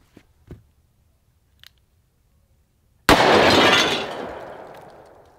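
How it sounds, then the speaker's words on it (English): Ceramic tiles shatter when struck by a 300 grain .44 Magnum bullet: a sudden loud crash of breaking pieces, preceded by a few faint clicks and then fading into a scattering, tinkling decay. "let's hit it with another 300 grain 44 Magnum and see how many of those tiles we can bust up"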